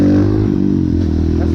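A motorcycle engine revs loudly and steadily at close range during an attempt to lift the front wheel onto the rear wheel in third gear, a sustained low droning roar with slight clatter and no clear change in pitch.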